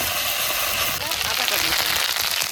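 Onion paste hits hot oil in a pan for a katla fish curry, giving a steady, close sizzle and crackle that runs throughout while a person talks over it.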